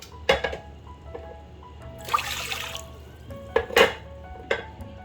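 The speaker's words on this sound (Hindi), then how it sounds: "मैं 3 कप इसमें पानी, 1 लीटर के करीब पानी इसमें डाल रही हूँ।" About a litre of water is poured into a cooking pot for a home cold and cough remedy, a short splashing pour between a few clinks of the metal pot, close by, with no talking.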